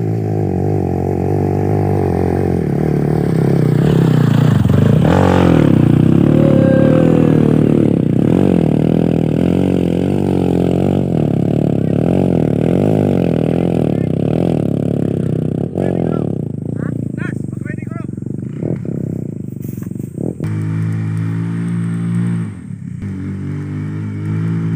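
A Honda CRF150 or KTM 250 dirt bike engine rumbles and revs loudly close by on a mud trail, pitch rising and falling, with voices talking over it.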